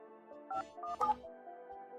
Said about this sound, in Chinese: 我这就给大山打电话。